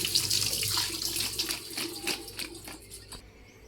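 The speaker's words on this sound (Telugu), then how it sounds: "ఇలా వాటర్లో వాష్ చేసుకోవాలి." Potato slices being rinsed in a bowl of water by hand, heard as irregular close sloshing and splashing with bursts of trickling that thin out toward the end.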